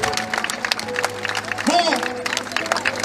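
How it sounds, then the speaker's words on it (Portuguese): Congregation at a large church gathering in Brazil clapping for Jesus, a steady rhythmic patter of many hands mixed with crowd voices and a speaker talking over it. "Palmas para Jesus."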